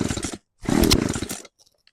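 An old chainsaw that has sat unused for years, primed and on choke, gives two loud, close bursts of rough engine roar, the second longer, before cutting out to near silence with faint clicks.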